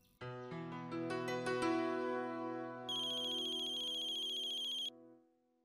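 A phone ringtone plays while a call is placed, a bright synthesized melody of tonal notes rising in steps, then a sustained higher ringing layer, clear and close before stopping.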